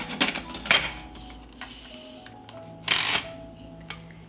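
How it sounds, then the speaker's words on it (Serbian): A pressure cooker lid closes with jars inside, heard as a few close metallic clanks and clicks spread across a few seconds, with quiet pauses between them. "Zatvaram ekspres lonac"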